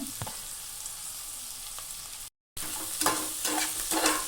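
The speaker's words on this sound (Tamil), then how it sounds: "இப்போது ரெண்டு பெரிய வெங்காயத்தை நீல வாக்கில் சாப் பண்ணி அதையும் நான் அதில் சேர்த்துக்கிறேன்" Sliced onions fry with rock salt in a pot for pressure-cooker chicken biryani, giving a continuous close sizzle, broken by one brief silent gap, then stirring scrapes.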